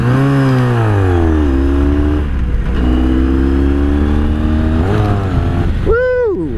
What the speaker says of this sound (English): Let's give it a good rev when we get under there.